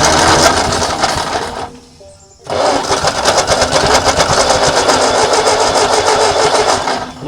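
A 1939 Ford tractor engine, left sitting in a field for over 20 years, cranking and firing loudly with a rapid chugging rhythm, briefly dropping off before catching again.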